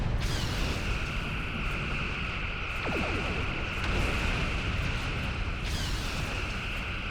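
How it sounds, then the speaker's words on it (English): Starship cannon volleys in Star Trek Online roar as a dense, loud, continuous wash of explosive noise with bursts near the start and end, holding at high level for the whole stretch. "Volley with cannons, please."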